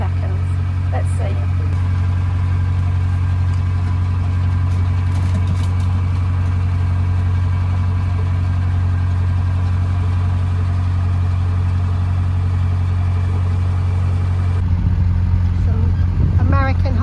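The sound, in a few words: rental boat engine running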